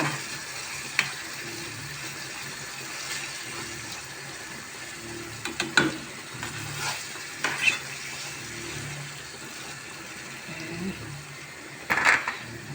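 A steady low sizzle hisses from a pan, broken by a few clinks and scrapes of stirring, with no one speaking.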